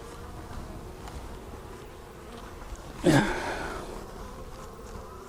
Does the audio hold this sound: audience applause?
no